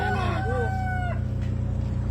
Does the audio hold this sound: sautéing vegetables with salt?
no